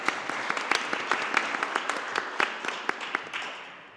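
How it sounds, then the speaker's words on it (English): A conference audience claps after a panel discussion on living with AI, a steady round of many hands with sharp individual claps, moderately distant and fading toward the end. "Let's give a round of applause"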